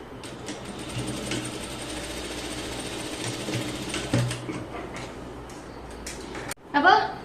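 A sewing machine stitches the shoulder seam of a garment with a half-inch allowance, giving a steady, close, continuous whirring hum that runs for several seconds and then stops. A voice speaks faintly underneath.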